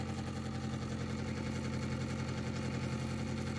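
Large homemade pulse motor running at maximum power, a steady, close mechanical hum and buzz with an even chugging pulse that holds unchanged throughout, with no voices.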